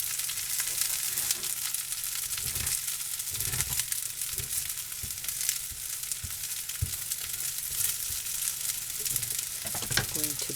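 Pork fried rice sizzles steadily in a hot pan, with a continuous frying hiss broken by scraping stir strokes of a utensil against the pan, close and fairly loud.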